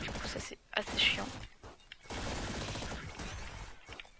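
Weapon fire in the game Downwell comes as dense, rapid repeated shots with a few brighter sharp hits, over game music and a speaking voice.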